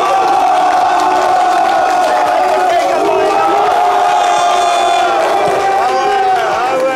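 A studio audience at a live Ivorian variety show roars with sustained cheering, whoops and shouts, dense and loud throughout, with music-like tones beneath the crowd noise.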